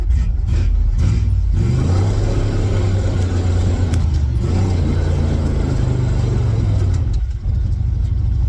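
A heavy truck with a Ford 302 V8 and a 390 CFM Holley carburetor accelerates hard, a loud, close engine roar climbing steadily in pitch, easing, then surging again near the end.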